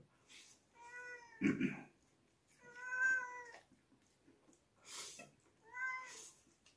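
A cat meows repeatedly indoors: four drawn-out, clearly pitched meows separated by short pauses, with a dull thump near the second one and no talking.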